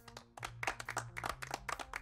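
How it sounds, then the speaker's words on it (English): A few people clap in quick, uneven bursts, sharp and close, with a sparse scattered rhythm rather than a full crowd roar. "Give yourself a round of applause."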